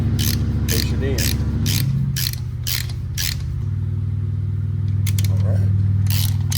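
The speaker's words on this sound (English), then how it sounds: "I'll take my ratchet socket" Ratchet socket driving in screws during a Dyna Wood TW-222 install, with repeated sharp ratcheting bursts over a steady low engine-like hum, close and loud.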